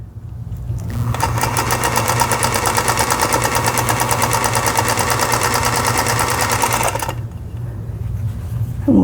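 A sewing machine runs steadily for about six seconds stitching quilt pieces together, a close, even mechanical whir with a fast regular needle rhythm that starts and stops cleanly, with no talking.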